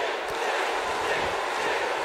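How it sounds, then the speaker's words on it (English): Steady roar of a big wrestling crowd in WWE 2K18 at a stadium show, a continuous distant cheering wash with faint thuds beneath. "This crowd solidly behind the Stinger."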